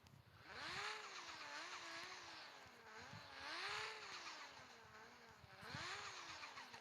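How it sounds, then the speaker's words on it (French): A car engine revving up and easing off in repeated waves, a steady throaty drone rising and falling in pitch, fairly close with no talking over it. "regardez le son de cette voiture"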